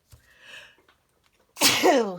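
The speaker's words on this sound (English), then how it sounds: "I'll probably sneeze again" A short breathy intake followed by one loud, explosive sneeze, close up.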